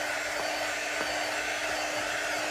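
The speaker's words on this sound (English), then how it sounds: "you can use a hair dryer" A hair dryer blows steadily on chalk, a continuous close airy roar that stays level throughout with a couple of faint clicks.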